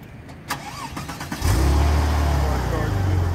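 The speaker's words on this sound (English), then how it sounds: "I'm gonna try to start the car." A Porsche 911 Turbo engine cranks and catches at about one and a half seconds, then settles into a loud, steady idle close by, with a few small clicks and rustles before it fires.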